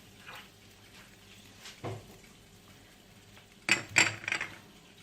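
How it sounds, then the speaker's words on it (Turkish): A few faint scrapes and clinks of a utensil against a metal pot, sparse and quiet, with the loudest cluster of scraping near the end. "tenceremizi güzelce sıyıralım."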